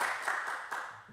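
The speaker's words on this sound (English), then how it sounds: "Let's have some applause for your presentation" Audience applause at an international music conference in Bydgoszcz closes a presentation, a steady wash of many hands clapping at moderate volume for about a second, unbroken by voices.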